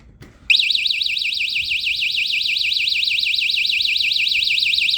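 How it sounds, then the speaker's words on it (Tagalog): A magnetic-contact door alarm suddenly starts up loud and close, holding a fast warbling electronic siren with a steady pulse after a brief quiet moment. "The contacts inside will close and the alarm will sound."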